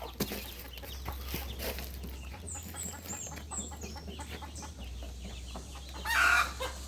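Hens and a rooster on a farm cluck and call over a steady low hum of background noise, with a louder, closer squawk near the end.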